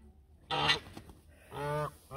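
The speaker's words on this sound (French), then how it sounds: "Là, ça, c'est les oiseaux." Farm birds at a rural farm give two loud, nasal honks about a second apart, with a third starting at the end, over quiet background.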